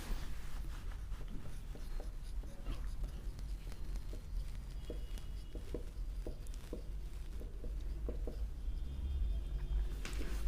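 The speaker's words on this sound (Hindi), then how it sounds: "अच्छे से लिखती हूँ थोड़ा" A pen scratches steadily across paper as someone writes by hand, with small irregular taps and strokes, close but quiet, over a low background hum; a voice can be heard faintly now and then.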